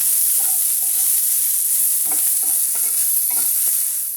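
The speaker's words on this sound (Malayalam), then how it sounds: "സവാള ഇടുകയാണ്. ഇത് നന്നായിട്ടൊന്ന് മൂക്കണം." Chopped onions with a little salt fry in a pan for biryani, giving a steady sizzle and occasional scraping stir strokes of a spoon. The sound is close and continuous, with no talking.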